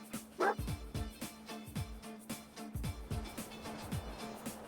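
The canine companion in Fallout 4 barks and yips in short repeated bursts, fairly close, with a faint whimper between barks over a quiet game backdrop.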